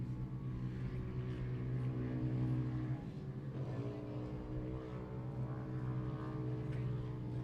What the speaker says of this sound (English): I can hear that 99 car on the gas the entire time coming around here right in front of us.